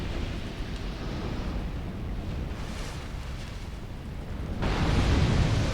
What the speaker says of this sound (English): Exploding everywhere.